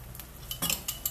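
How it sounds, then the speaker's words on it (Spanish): A seasoned mixture with salt and ground pepper being beaten in a bowl, a short run of quick light clinks and taps from a utensil against the bowl, close and fairly quiet. "Batimos bien"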